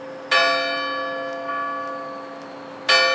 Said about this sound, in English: the chimes of a neighboring church struck the 4 quarters